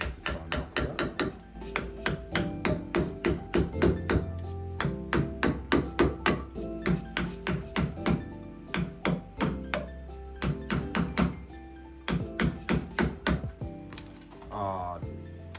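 Rhythmic metal hammer blows knock copper windings out of a scrap compressor, dozens of sharp, loud strikes in quick bursts with short pauses, close by, ending in a brief scraping clatter.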